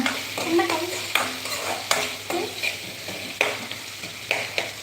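Onions sauté in a pan for Madurai-style thanni chutney, a steady sizzle broken by repeated rhythmic scrapes of a spoon stirring, close and clear with no talking.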